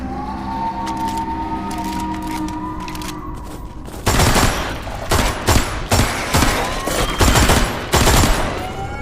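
A Kalashnikov rifle fires in Metro Awakening: loud, close bursts of automatic gunfire begin partway in, breaking up a low humming, droning background, with short pauses between volleys.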